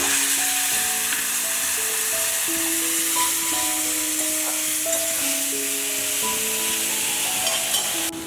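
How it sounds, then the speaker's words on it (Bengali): A steady, dense sizzle of mustard seeds spluttering in hot oil runs throughout, with a melodic tune playing over it. "সর্ষে খুব লাফালাফি করতে শুরু করেছে"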